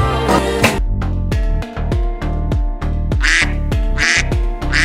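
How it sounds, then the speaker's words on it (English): Cartoon duck quacks from an animal video game sound out in a rapid, loud series of repeated honking calls, with no one talking. "Duck."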